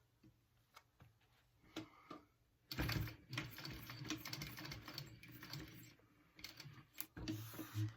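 A sewing machine runs in uneven bursts while stitching along existing seam lines on tote bag straps, its needle ticking rapidly with a steady mechanical hum, louder after a quiet start, with short pauses between runs.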